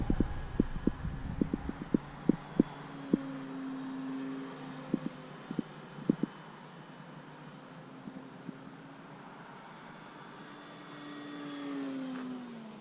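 An E-flite Valiant RC model airplane makes a full-speed presentation pass. Its steady electric-motor whine rises and falls as it sweeps by at a distance, after a few sharp clicks nearby.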